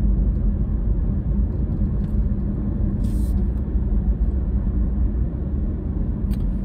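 A 2023 Honda HR-V accelerates on a straightaway, heard from inside the cabin as a steady, loud low engine and road rumble.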